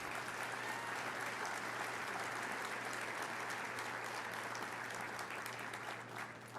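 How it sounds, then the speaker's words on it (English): Large audience at a transportation summit opening session applauding, a dense, steady wash of clapping that holds throughout and tapers slightly at the end. "Now you can give them a big round of applause."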